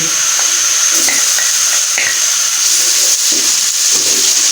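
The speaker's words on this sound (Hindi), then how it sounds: "अभी हम इसमें लहसुन और अदरक का पेस्ट ऐड करेंगे।" Onions fried with garlic-ginger paste in a pan for dhaba-style chana dal, giving a steady, close sizzle with some stirring and light scraping throughout.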